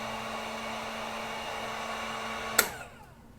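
A heat gun blows a steady whooshing hiss over a freshly dipped fishing jig for a few seconds, then cuts off with a sharp click and the airflow dies away.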